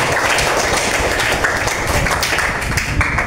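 Children in a classroom clap together loudly in a dense, continuous burst of applause for a classmate, with a voice faintly underneath.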